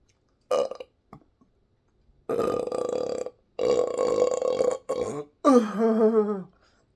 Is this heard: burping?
yes